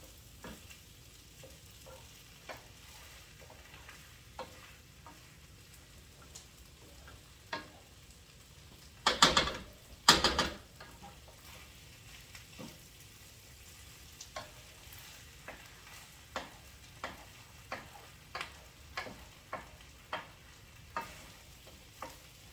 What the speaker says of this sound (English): What I'm doing right now is I'm just stirring